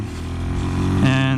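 A 2018 Suzuki DRZ400SM supermoto engine runs close by with a steady harmonic drone that climbs in pitch near the end as it revs, loud and continuous, with no talk over it.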